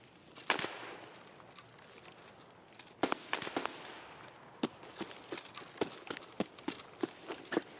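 Distant gunfire in a video game: scattered sharp pops and cracks, some in quick pairs, spread irregularly over a low background hum, growing more frequent toward the end.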